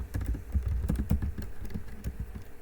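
Code is typed on a computer keyboard in a C programming lesson: a quick, irregular run of crisp key taps, close and clear, with no talk.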